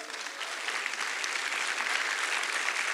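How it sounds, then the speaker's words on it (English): A church congregation applauding, steady sustained clapping from a crowd throughout, moderately loud and unbroken. "Let us give an applause to the Lord."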